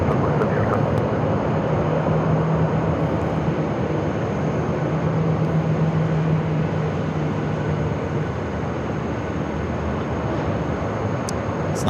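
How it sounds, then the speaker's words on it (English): Air Canada Rouge Airbus A319 airliner touching down on the runway at Phoenix Sky Harbor, a steady broad jet roar with low engine rumble that holds at a constant loud level throughout, with no voices. "Is that Rouge, Air Canada Rouge A319 touching down at 8."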